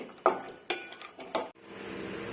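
Vermicelli fries in a pan for a sweet semiya dessert, with a few sharp metallic clinks of stirring followed by a soft, steady sizzle.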